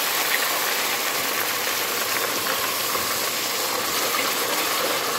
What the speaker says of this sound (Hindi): प्याज के अंदर हम पानी डाल देते हैं।